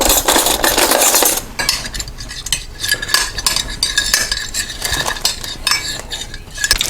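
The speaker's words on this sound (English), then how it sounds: "We get a spoon. Smooth that out somewhat." A spoon scrapes and clinks against a baking dish while smoothing sauce across the bottom for a lasagna, a busy run of close scraping and tapping strokes.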